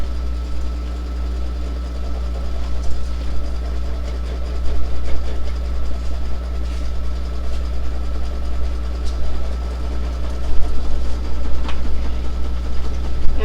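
An embroidery machine stitches a design on a hard-to-hoop item, a steady motor hum with a faint rapid mechanical rhythm running continuously at moderate level, no voices.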